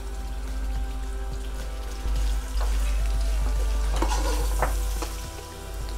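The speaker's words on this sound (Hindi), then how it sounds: "मैंने इसको तकरीबन 5 मिनट के लिए जो है ना सारे मसालों के साथ टमाटरों को भून लिया है।" Tomatoes fry with coriander, cumin, whole spices, salt and red chili for a chicken pulao, a loud continuous sizzle broken by repeated scraping stirs in the pan, with no talk.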